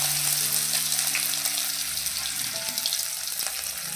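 Crushed ginger added to spices frying in a pan for a Kerala-style chicken curry, a steady close sizzle with bubbling and a faint stirring scrape throughout.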